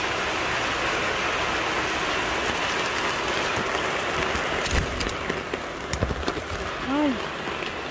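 Steady, dense hiss of heavy rain pouring down continuously, with a few sharper clatters near the end and a faint voice briefly audible.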